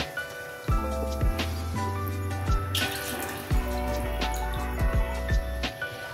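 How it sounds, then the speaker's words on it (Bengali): Plain water pours into a pan of oily fish curry masala for aar fish tel jhal, a steady splashing gush lasting several seconds over a busy kitchen background with repeating tones. "পরিমাণ মতো জল দিয়ে দিচ্ছি, নরমাল জল"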